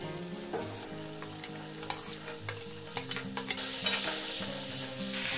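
Onion stalks frying with Kashmiri chilli powder and spices in a pan, a soft steady sizzle broken by occasional spatula scrapes and stirring knocks, close and fairly quiet, with a low background hum.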